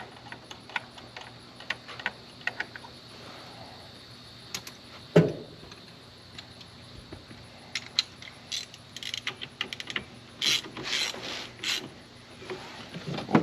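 Light metallic clicks and ratcheting taps as a bolt is run onto the steering column of a 1994–2004 Mustang during a GT350R steering wheel install, faint and intermittent over a steady background hum.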